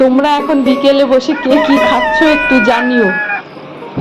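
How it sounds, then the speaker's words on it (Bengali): A rooster crows in a village while someone talks close by and people sit together eating sugarcane. The drawn-out, strained crow rises over her voice and then fades out. "আর মাঝে মধ্যে কিরকম মোরগ ডাকছে শুনেছ তো?"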